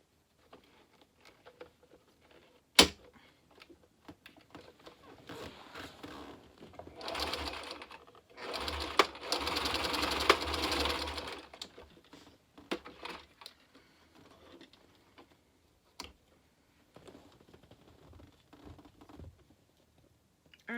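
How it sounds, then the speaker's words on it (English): Sewing machine zigzag-stitching the joined ends of elastic for a wristlet on a clown Lolita outfit, starting with scattered clicks and handling noises, then a steady whirring run of stitching in the middle before stopping and returning to faint intermittent clicks. "zigzag stitch both sides of this where the elastic ends meet, and then I will be sewing those two edges together"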